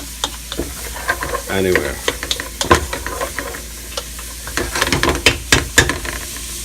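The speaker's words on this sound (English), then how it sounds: "You have to mix it together. Keep mixing it." Beef stew meat and condiments being stirred in a pot, with repeated scraping and clattering strokes over a steady sizzle, brief speech partway through.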